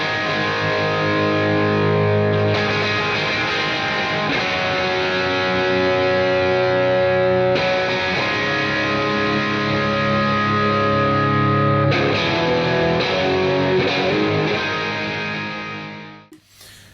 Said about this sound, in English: I can change the reverbs and the delays, and I can add more distortion if I want